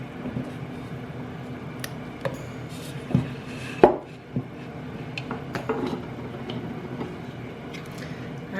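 Knife chopping food in half on a cutting board in a home kitchen, a few scattered close thunks, one louder strike, over a low steady background hum, no voices.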